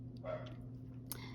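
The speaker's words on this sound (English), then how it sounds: "Now they're barking." Dogs bark at a noise outside, a couple of short muffled woofs heard at a distance indoors over a steady low electrical hum.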